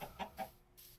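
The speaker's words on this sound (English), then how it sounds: "Roosters." Rooster clucks from a farm video game, three quick soft clucks in a row followed by a brief higher note, faint and isolated with no voices.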